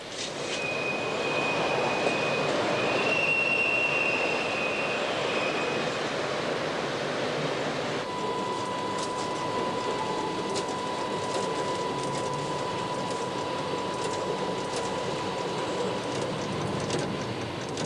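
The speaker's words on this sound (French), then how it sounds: "Quittant Ambérieu, le 41-321 franchit la communication qui le dirige sur voie 1 à destination de Chambéry." SNCF CC 7107 electric locomotive hauling a train out of Ambérieu toward Chambéry in 2000, a continuous loud rumble of wheels on track heard from the cab, with a faint whistle-like tone early and a steady hum later.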